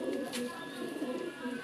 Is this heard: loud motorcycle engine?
no